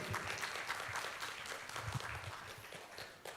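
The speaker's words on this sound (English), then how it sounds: "Ladies and gentlemen, one applause for Mr. Victor Effendi." An audience at an academic conference at Universitas Ciputra in Surabaya claps steadily throughout, a dense, fairly faint wash of applause with no talk over it.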